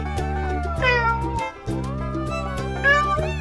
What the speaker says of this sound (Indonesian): Ini kucing.